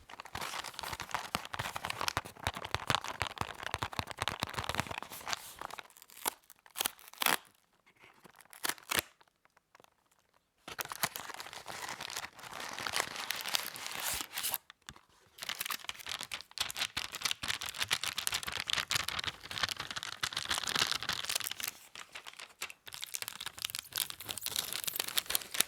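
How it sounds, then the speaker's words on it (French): Package of coconut mochis being torn open and handled, with dense close crinkling and rustling of plastic wrapper that briefly pauses midway and then resumes, no talking. "on va ouvrir ce paquet et goûter les mochis en exclusivité"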